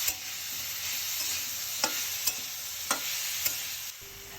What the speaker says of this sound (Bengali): এখন ক্যাশিউ নাট আর চিকেন আমরা কোকোনাট কুকিং অয়েলে ভেজে নিচ্ছি।